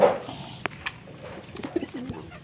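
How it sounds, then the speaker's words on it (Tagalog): Pigeons coo softly in short low murmurs, with a few light clicks and flutters around them, fairly quiet and close. "So, maraming kalapati dyan."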